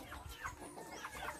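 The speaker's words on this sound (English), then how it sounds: "yard fowl, frizzle fowl. That's a frizzle fowl." Frizzle fowl and other chickens cluck softly in a yard in Trinidad, a few scattered, faint clucks over steady background noise.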